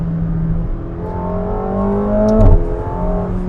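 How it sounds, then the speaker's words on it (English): Steady engine drone of a McLaren 750S with a quick sharp bang and rev change midway from a dual-clutch gear shift, close and fairly loud. "I am surprised at how much it bangs gears"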